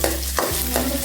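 Split yellow lentils and curry leaves sizzle and crackle in a hot pan while a spoon stirs them in a few regular scraping strokes.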